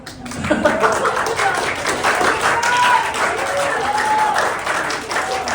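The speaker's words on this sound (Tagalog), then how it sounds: "So palakpakan niyo naman si Jesus." A church congregation on a Sabbath service applauds for Jesus, with dense, lively clapping swelling and holding, mixed with some laughter and voices speaking over it.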